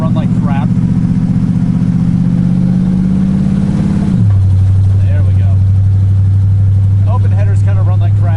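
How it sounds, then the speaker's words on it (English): Car engine with open exhaust headers running loud and close, a steady deep drone that drops to a lower idle pitch partway through, with faint voices underneath. "And open headers kind of run like crap."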